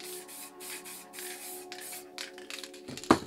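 Montana Gold spray paint can spraying black paint onto an art piece, several short hissing bursts followed by an uneven spluttering, spitting spray and a sharp click near the end, close and clear with no talking.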